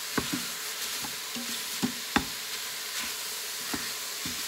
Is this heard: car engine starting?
no